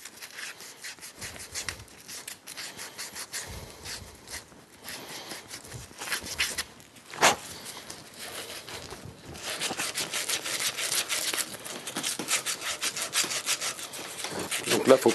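An abrasive pad rubs back and forth on copper plumbing pipe to clean it before tin soldering, a steady close scratching rasp that grows louder and quicker toward the end.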